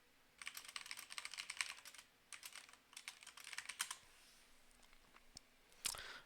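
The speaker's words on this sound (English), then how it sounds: "Sorry, I'm just typing in my guild Discord." Rapid bursts of typing on a computer keyboard, close and fairly quiet, in several runs with short pauses, ending with a sharper click or two.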